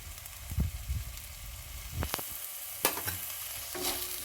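Soy sauce hits a hot pan of sizzling bread snack, bringing a brief sharper hiss over the steady frying, with a few scrapes of stirring and a quieter sizzle continuing afterward.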